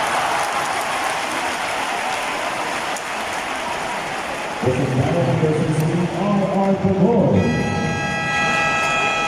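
Basketball fans roar and shout in a packed arena during Game 6 of the TNT vs Ginebra finals, a dense, loud crowd din that persists throughout, with louder voices and tonal noise rising near the end.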